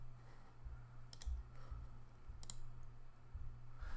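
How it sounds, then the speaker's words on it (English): Two quick pairs of computer mouse clicks, right-clicking and selecting Delete on a podcast in a media library, sound close and crisp over a low steady room hum. "I would do that by right-clicking on one of them and selecting Delete."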